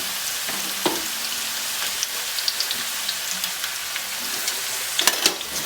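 Steady sizzling and crackling of meatballs frying in a pan, with occasional louder pops and spits over a constant hiss.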